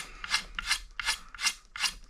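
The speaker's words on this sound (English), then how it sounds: "This old poly just sands like steel." Rhythmic rasping strokes of sandpaper scraping an old hard polyurethane finish on a guitar neck, about six back-and-forth passes, close and fairly loud with no talking.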